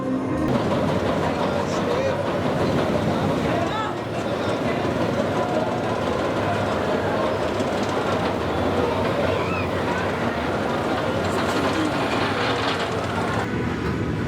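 Big One roller coaster at Blackpool Pleasure Beach, a steady loud rumble and rattling clatter of the train on its track running continuously, with a brief dip near the start and faint voices mixed in.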